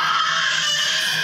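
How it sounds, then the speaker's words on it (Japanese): A scream from a neighbouring table in a yakiniku restaurant, heard as a loud, sustained high-pitched shriek that fills the whole short moment. "ちょっと悲鳴が上がっておりますが"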